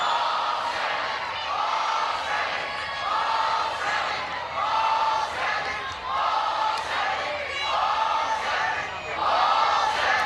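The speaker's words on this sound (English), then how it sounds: "A little sarcastic cheer." A softball stadium crowd at an NCAA game between Texas A&M and Arizona State lets out a sarcastic cheer, rising and falling in repeated waves of mixed voices and shouts, loud and continuous throughout.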